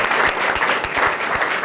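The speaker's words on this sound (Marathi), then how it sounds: "एकदा टाळ्या वाजवा या वाक्यासाठी" Loud, dense applause from an audience at a Marathi TV show, a steady clatter of many hands with soft thumps throughout and no pause.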